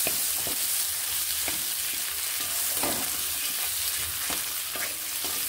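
Grated ginger and chopped chillies fry in a pan with a steady, dense sizzle, while a spatula stirs and scrapes against the metal at a regular pace.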